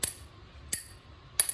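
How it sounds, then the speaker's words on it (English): Three sharp, metallic-sounding clicks spaced evenly apart, from a glass water hammer, water sealed in a vacuum glass tube striking the glass, each ringing briefly. "that's the sound of the water hitting the glass without any air cushion inside"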